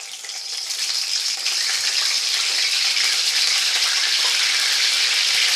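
Curry leaves and peas hit hot oil in a pan and sizzle loudly, a dense, steady crackling hiss that swells within the first second and holds on close by, with no talking.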